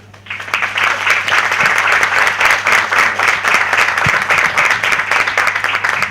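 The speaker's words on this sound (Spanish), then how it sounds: "Yo les agradezco una vez más la presencia y los quiero dejar entonces con Lucas Lanza, para quien pido un fuerte aplauso." An audience applauds at a university administration week event on smart cities as the next speaker, Lucas Lanza, is introduced. Dense, steady clapping from a crowd fills the room throughout, with a low hum underneath.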